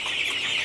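Chickens on a farm raised for meat and eggs, giving a brief, steady high-pitched clucking and chatter that fills the short moment at moderate loudness, with no talk.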